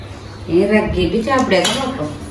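A lid goes onto a cooking pot with a few metallic clinks and rattles, while a person talks over the kitchen sounds.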